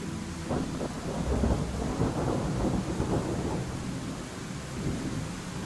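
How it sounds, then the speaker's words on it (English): Rolling thunder rumbles continuously through a storm outside, with steady rain hissing on surfaces underneath; the low roar stays fairly loud and sustained throughout, with no voices. "I do have a thunder outside. Yeah, there's a storm going on."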